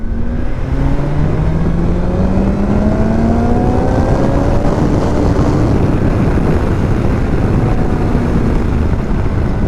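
A 2021 BMW S1000XR motorcycle fitted with a new air filter accelerates hard on a dry road. The engine roars loud and steady while its pitch sweeps upward through the gears without a break.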